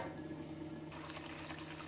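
Tamarind broth seasoned with ajwain simmers in a pot before fish is added, making a quiet, continuous bubbling and hiss that grows busier partway through, with no voices over it.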